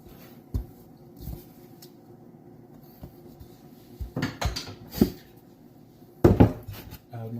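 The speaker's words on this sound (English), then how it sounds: "we're gonna scrape the dough off the spoon" A spoon scrapes and knocks against a bowl while bread dough for French bread comes off it, with sparse clinks and taps, louder clustered scrapes toward the end, and quiet gaps between.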